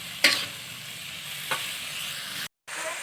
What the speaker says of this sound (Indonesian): Jadi ya terus aja kocek sampai agak kering.